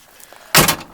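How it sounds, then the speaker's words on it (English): A single solid thunk as the door of a 1977 C3 Corvette with no weather stripping swings shut, close and loud after a second of near quiet. "the door will probably close a little bit farther than it's supposed to"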